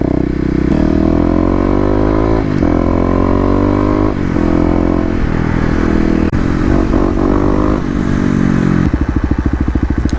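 A Kawasaki KLX250 dirt bike engine running close and loud, holding steady revs with several rises and drops in pitch, then a rough rapid sputtering burst near the end.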